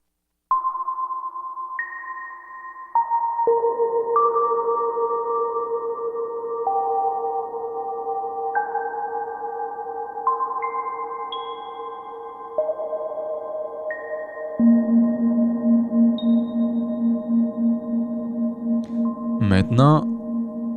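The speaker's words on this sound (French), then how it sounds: "Maintenant, sur le Subtractor, avec une simple onde sinusoïdale, apprécions la super large et profonde réverbération stéréo" A pure, sustained sine-wave tone from a Subtractor synth glides through a series of held pitches, bathed in a wide, deep stereo reverb, with a brief burst of noise near the end.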